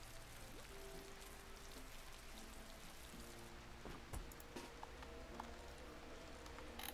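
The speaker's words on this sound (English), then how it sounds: "It is raining outside." Steady rain in the RimWorld video game hisses across the whole stretch as a continuous wash of droplets, with a few brief clicks and taps poking through the constant patter.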